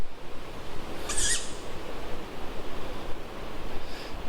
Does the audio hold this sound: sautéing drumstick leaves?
no